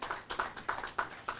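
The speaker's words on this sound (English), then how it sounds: "Could we give them all a special hand of applause?" Applause at a bank opening ceremony in St. Kitts, a few distinct rhythmic hand claps, fairly faint and sparse, without talk over them.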